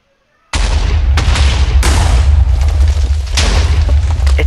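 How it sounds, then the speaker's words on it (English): A booby trap in the video game Minecraft sets off a huge blast after brief silence: a sudden loud boom followed by several more crackling detonations and sustained rumbling debris noise. "It's a little trap, booby trap, and it just leads into a huge explosion that destroys your loot"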